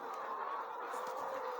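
Young laying hens in a poultry house cluck and murmur together in a steady, close, continuous chorus.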